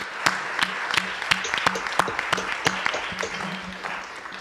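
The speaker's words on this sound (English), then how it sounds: "round of applause for Jason and Gretchen" An audience at the ClueCon 2024 conference's Dangerous Demos session applauds Jason and Gretchen, steady clapping with sharp individual claps standing out over a dense crowd bed, sustained throughout without talk.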